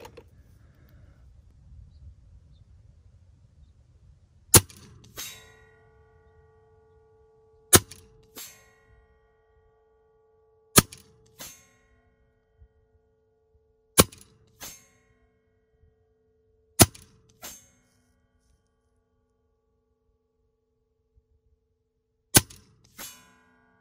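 Six sharp, distinct shots from an Edgun .30 caliber air rifle with a bottle reservoir, each a crisp clang-like crack followed by a faint ringing target hit, spaced a few seconds apart in quiet surroundings.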